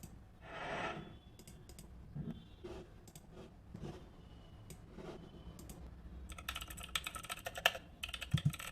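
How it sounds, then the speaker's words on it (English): Keyboard typing added as a sound effect plays alone in a quick, uneven run of light clicks and taps, sparse at first and then denser near the end. "I want to add some type effects into this."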